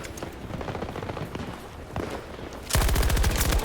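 A burst of rapid automatic gunfire from Battlefield 2042 rattles loudly and close, following scattered softer shots and battlefield noise.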